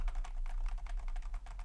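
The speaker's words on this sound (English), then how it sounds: "there is a lot of travel and it's a very quiet keyboard" Quiet, soft keystrokes on a Razer Deathstalker keyboard, a steady run of muted taps at a typing pace with no voices.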